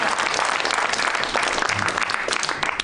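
A studio audience breaks into loud, continuous applause during a Georgian TV comedy series, many hands clapping at once in a dense, close wash that tapers slightly toward the end.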